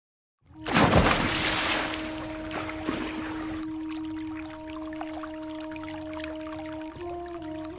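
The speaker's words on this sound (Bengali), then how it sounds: "নদীর বাঁধ ভেঙে গেছে, পুরো গ্রাম ডুবে যাচ্ছে আস্তে আস্তে" Cartoon floodwater bursts from a broken river dam. A loud rushing surge rises suddenly and settles into a steady flowing wash, with a sustained tonal hum underneath. No one speaks.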